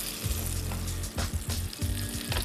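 Sherry vinegar and red wine hit a pan of sizzling, translucent onions, giving a loud, steady frying hiss with crackles and a few bursts of bubbling.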